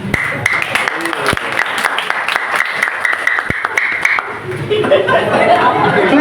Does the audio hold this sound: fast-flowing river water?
no